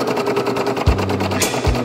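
Embroidery machine stitching on lace, a steady mechanical whir with repeating rhythmic stitch pulses and a couple of low thumps, close and moderately loud.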